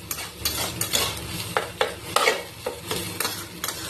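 Greens sizzling in hot oil in a pan while a utensil scrapes and stirs them in quick, irregular strokes, with a soft frying hiss underneath, close and moderately quiet.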